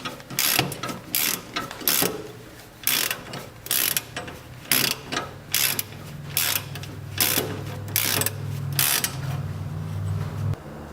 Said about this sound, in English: Holding the bolt, using the torque wrench, and tighten this nut to 33 Newton meters